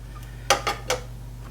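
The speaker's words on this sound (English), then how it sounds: "I'm just gonna kind of break up the tuna and kind of mix up our canned mixture here." A utensil clinks against a bowl three times while drained canned tuna, peas and cream of mushroom soup are stirred together, sharp close taps over a steady low hum.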